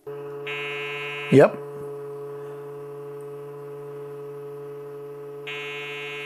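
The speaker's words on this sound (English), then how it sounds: "I think that is the memory beep code, so that's a good sign." A long electronic POST beep code from a 486 computer motherboard sounds steadily, briefly interrupted by a short spoken word, with higher tonal beeps at start and end.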